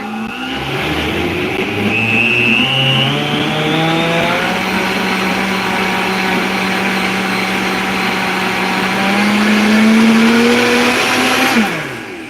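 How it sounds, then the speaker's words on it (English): A kitchen blender whirs loudly while blending a smoothie, its motor pitch climbing and settling in a steady high drone for about eleven seconds before cutting off abruptly. "All right, so let me do this blend one more time on the blender for me"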